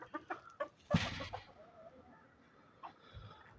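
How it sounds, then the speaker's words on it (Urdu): Hens cluck in short bursts right after being let out, with a louder flurry of flapping or squawking near the start and scattered soft clucks trailing off, fairly close. "یہ میں نے مرغیاں نکال لی"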